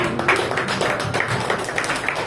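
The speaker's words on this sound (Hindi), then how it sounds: "और जोर से ताली बजाओ।" A room of students at a Teachers' Day celebration claps steadily after a speech, dense overlapping hand claps in a continuous moderate wash with no talking.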